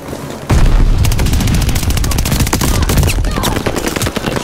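Loud, continuous automatic fire from an AS44 rifle in Call of Duty: Vanguard, a dense close rattle of shots with booming impacts, starting abruptly and running steadily throughout.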